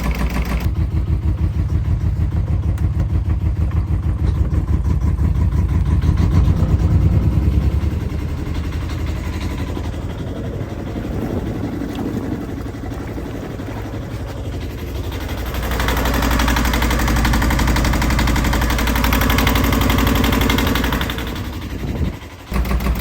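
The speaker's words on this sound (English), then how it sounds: "That is a Yanmar engine, 2GM20, in pretty good working order, really." A small Yanmar 2GM20 marine diesel engine on a Birdsall Gulf30 boat runs steadily with a rhythmic idling chug, the note shifting as it works harder midway, then settling before cutting briefly at the end.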